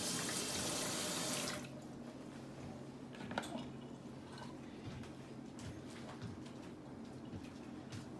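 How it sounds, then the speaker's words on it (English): A faucet runs loudly for a moment as hands are washed under it, then shuts off, leaving quiet room tone with light clicks and splashes. "Wash your hands."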